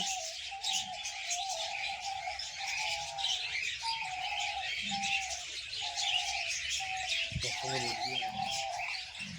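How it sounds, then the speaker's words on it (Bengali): Birds chirp and coo steadily in a busy chorus at a mini zoo with diamond doves, with a soft voice briefly audible underneath. "পাখিদের কিচির মিচির কিন্তু বেশ ভালো লাগছে"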